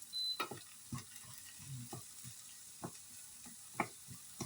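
Onions frying in a pan: a soft background sizzle broken by a series of light utensil taps and scrapes at irregular intervals, quiet and close, with no talking.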